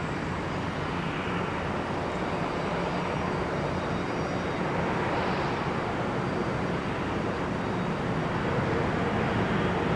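An Embraer E175 jet taking off from runway 30 left at Minneapolis–St. Paul Airport, a continuous broad engine roar heard from a distance that holds steady and swells slightly toward the end.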